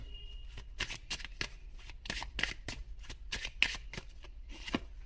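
Tarot cards shuffled by hand, a close series of quick riffling snaps and papery slaps in an irregular rhythm, fairly soft and without talk.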